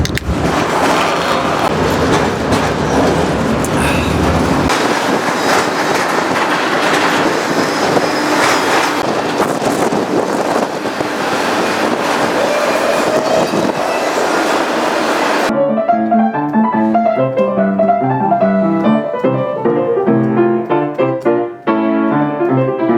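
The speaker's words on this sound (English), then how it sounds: "This train's going all the way to Chicago." Freight train riding the rails on a trainhop from Jacksonville to Birmingham, a loud continuous rumble and clatter of wagons up close that gives way to music near the end.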